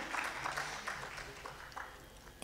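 Audience applause for a tabla and harmonium duo at a classical Indian music performance, a steady dense clapping from a crowd lasting a few seconds, moderately loud throughout.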